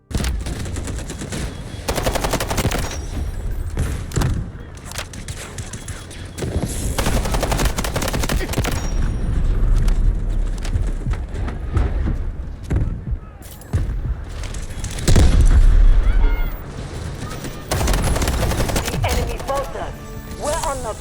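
Rapid automatic gunfire from weapons in the shooter game Delta Force Hawk Ops, loud bursts and sustained volleys with brief pauses between strings of fire, mixed with booming impacts and game effects.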